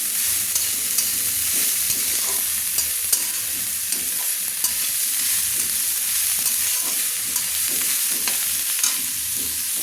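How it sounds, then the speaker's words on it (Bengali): Onions, green chillies and cabbage stir-frying over medium to high flame for egg chowmein, with a continuous loud sizzle and frequent sharp scrapes and clatters of the stirring spoon against the pan. "দেখুন সুন্দর ভাজা হয়ে যাচ্ছে, দেখুন জল ছাড়ছে না"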